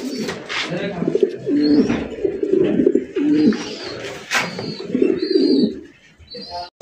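Several almond tiger pigeons at a seller's loft coo close by in steady, overlapping low phrases, with brief higher chirps and a faint wing flutter near the end.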